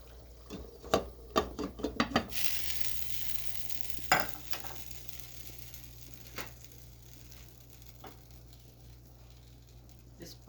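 A pot of simmering chili being stirred, with several close spoon scrapes and clatters near the start over a low steady bubbling hiss, then a few sparse knocks as it settles into quiet simmering.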